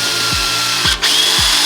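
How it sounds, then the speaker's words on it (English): A power drill boring a hole into a carbon fiber body kit on an MK5 Toyota Supra, with three short, loud whirring bursts spaced about half a second apart and no talking. "I'm gonna drill a hole."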